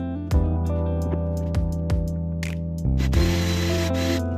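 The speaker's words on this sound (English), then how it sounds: "Weapon of choice, Makita CXT cordless drill." A Makita CXT cordless drill boring into stained wood panels for a display shelf, giving a series of short, close motor whines that rev up and stop, then a longer sustained run of drilling.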